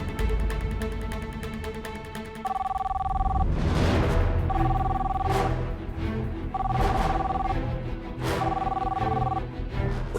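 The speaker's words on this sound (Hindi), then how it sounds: "उठाइए, फोन उठाइए।" A telephone rings in four regular bursts, each a trilling electronic bell, loud and close, over a low rumbling background with brief swells of noise.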